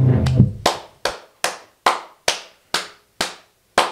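Clapping at a French talk show taping: a voice briefly at the start, then about eight slow, sharp, evenly spaced claps, close and fairly loud, each followed by a short pause.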